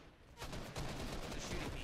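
Rapid gunfire in the video game Fortnite, a quick burst of closely spaced shots that starts abruptly and keeps going, fairly quiet overall.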